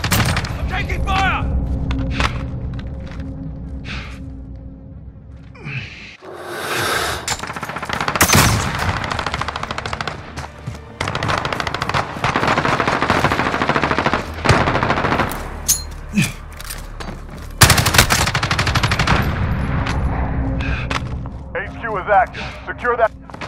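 Heavy gunfire in a Modern Warfare headquarters match: sustained machine-gun bursts and single shots with booms, loud and close through most of the stretch, under urgent radio-style voices calling contacts.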